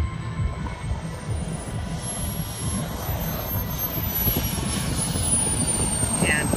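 A model Havoc airplane on final approach to land at Pearl Harbor gives a thin, high engine whine that shifts slowly in pitch over steady outdoor wind rumble, continuous and moderately distant.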